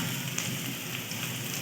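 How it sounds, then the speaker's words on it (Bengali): Onion with crushed garlic fries in a pan in a Bengali village kitchen, giving a steady, dense sizzling hiss that continues evenly throughout the short moment. "পেঁয়াজটা লাল লাল করে একটু ভেজে নেব।"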